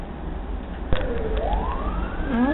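Ambulance siren near a bus accident, starting with a brief thump and then a wailing tone that rises in pitch and swells louder over steady traffic noise.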